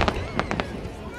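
Fireworks at a summer festival crackle and pop in several quick bursts, moderately distant, while a person talks over them.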